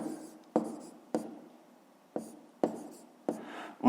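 Pen or marker strokes writing a math inequality by hand, heard as a series of sharp taps and scratches spaced irregularly, close and fairly quiet, with no talking.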